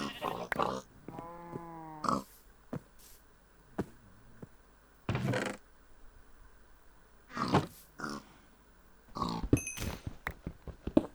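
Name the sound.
pig oinking in Minecraft video game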